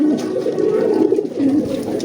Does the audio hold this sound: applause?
no